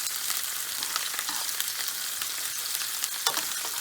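Stuffed calamari browning in a frying pan give off a steady, close sizzle and crackle of hot oil, with a few small pops and stirring scrapes over the bubbling.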